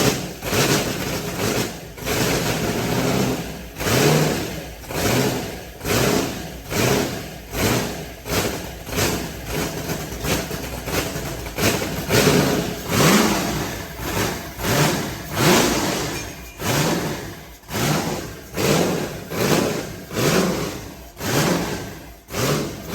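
A modified car engine with a blower and cam revs in a steady rhythmic loop, loud and close, surging up and dropping back roughly once a second for the whole stretch.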